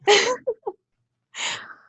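A single sharp sneeze up close, followed by a couple of brief vocal sounds and, after a pause, a second softer breathy sound, in an indoor interview setting.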